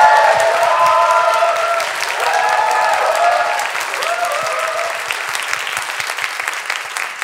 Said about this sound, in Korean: 우리 차드밍탄에게 여러분 다시 한번 큰 박수 부탁드리겠습니다